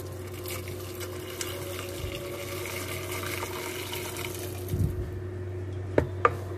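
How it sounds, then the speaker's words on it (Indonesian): Hot water poured into a cooking pot while making a red bean and potato vegetable soup, a soft continuous trickle and splash at fairly low level, ending with a couple of light knocks. "tambahkan air panas ya."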